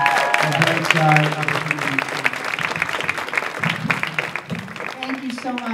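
A room full of people applauding at a church health fair as a fitness director is introduced, brisk clapping mixed with cheering voices and an amplified voice over the top.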